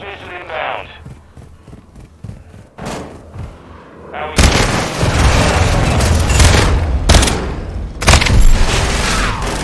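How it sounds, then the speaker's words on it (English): Heavy booming explosions from a cruise missile strike in a Call of Duty beta match, loud and dense rumbling blasts layered over gunfire, preceded by quieter game action and voices. "Friendly cruise missile inbound."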